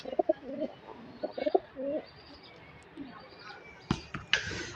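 A pair of pigeons, male and female, coo softly in a few low rolling bursts with chirpy notes, then sharper knocks and flutters close by near the end.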